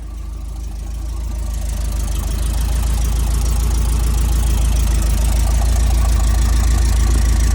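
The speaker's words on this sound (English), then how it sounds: "I've had it idling now for about 20 minutes." A V8 engine in a Toyota Hilux that sat dumped for a decade idles steadily on its factory exhaust, with a low rumble and a persistent metallic rattling knock, growing slightly louder and continuing alone throughout.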